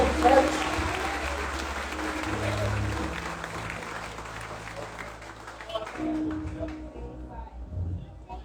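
A church congregation at a worship service claps loudly and steadily, a thick wash of applause with voices mixed in that fades toward the end.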